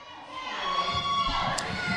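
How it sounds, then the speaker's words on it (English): Wrestling crowd at an NWA Mountain State Wrestling show comes alive in loud, sustained cheering and shouting, a dense roar of voices that swells and holds, with a sharp whistle-like shriek rising briefly near the end. "And listen to this crowd come alive."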